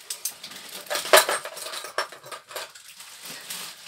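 Small spoons clink and rattle together while being washed up, a series of irregular metallic chinks and clatters, close and fairly quiet, with no talking.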